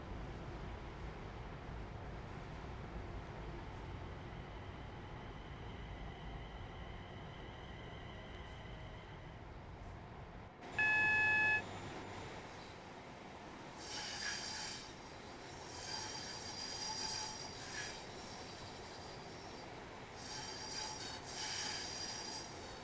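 A train in Train Sim World pulls into Wolverhampton, its wheels squealing over a steady rumble. A sharp tonal squeal stands out midway, then the sound continues as fainter running and rail noise.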